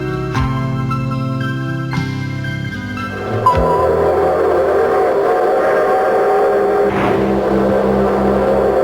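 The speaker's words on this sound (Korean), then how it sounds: "기적을 울리며 우리를 고리짓게 하던 기차" A long train whistle sounds with sustained tonal blasts, then gives way to the loud, steady rumble and clatter of a passing train that continues to the end.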